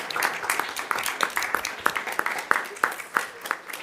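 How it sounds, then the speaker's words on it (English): A small audience at a board of directors meeting gives a modest round of applause, with individual claps distinct in a loose, uneven rhythm rather than a dense roar; a voice may be speaking over it. "Let's give them another round of applause."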